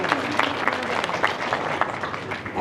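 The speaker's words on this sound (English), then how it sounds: "A round of applause," Applause rises from the audience at an African asset recovery practitioners forum in Nairobi, a brief burst of dense clapping with a faint murmur of voices underneath.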